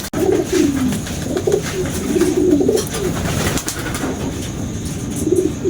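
A young racing pigeon coos in repeated soft, rolling phrases close by after arriving home at its loft, with steady outdoor background noise and no talk.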